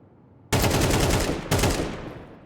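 Loud burst of rapid gunfire in a competitive CSC video game match, two sharp onsets about a second apart, each followed by dense sustained shots fading out.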